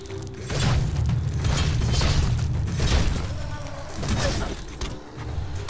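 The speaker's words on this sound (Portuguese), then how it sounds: "o bichinho tá atirando em mim, sem vergonha" A creature fires at the player in the video game Biomutant, giving deep booming blasts and creaking impacts. The shots are loud and continuous, layered over game effects, and someone talks at times.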